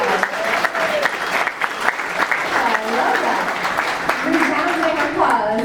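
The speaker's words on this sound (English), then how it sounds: "Can we give them all a round of applause?" An audience claps for a panel of agency officials at a Jamaica Bay collaboration event, a dense, sustained round of applause, with a voice briefly speaking over it.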